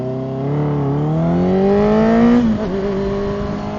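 A motorcycle engine revs hard during a street race, its pitch climbing steadily then dropping sharply as it shifts, loud and close.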